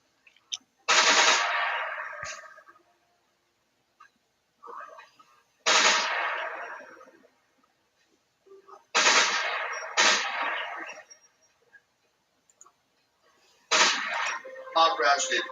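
Rifle in a video game firing in rapid automatic bursts, four loud sharp volleys separated by short silences, with a few quieter shots between them.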